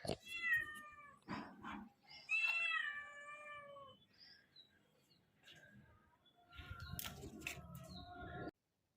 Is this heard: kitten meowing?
yes